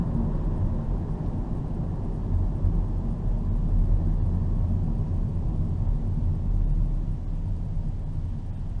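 Inside a 2017 Hyundai Sonata LF 2.0 CVVL on the move, a constant low rumble of tire and road noise fills the cabin, steady and even with no talking.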